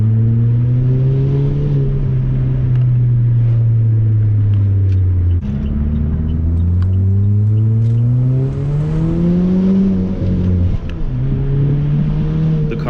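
A Saab car engine runs steadily during a test drive after an electrical repair, its loud, close rumble rising and falling in pitch as it revs and shifts through gears, with no talking over it.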